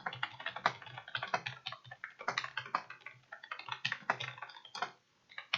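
Rapid, irregular keystrokes on a computer keyboard, close and fairly loud, clattering steadily with a short pause just before the end.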